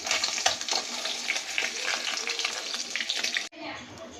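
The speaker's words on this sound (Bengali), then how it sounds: "মাছটা এখন ভাজা ভাজা হয়ে গেছে" Pabda fish fries in hot oil with a bright, crackling sizzle and some spatter. The sound runs steadily for a few seconds, then cuts off sharply into a quieter tail.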